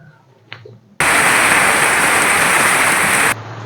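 Heavy rain on New Year's Eve sets in abruptly as a loud, dense, steady hiss of drops, like a downpour on a roof, holding for over two seconds before cutting back to a quieter background.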